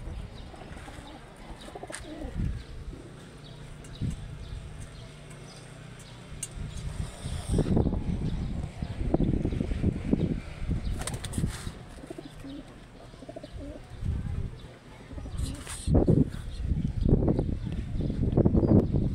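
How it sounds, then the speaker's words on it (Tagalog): Pet pigeons coo in low soft repeated calls, close by, with bird chirps and rustling, growing busier in the second half; no one talks over it. "Ayan na pong kalapati ko po."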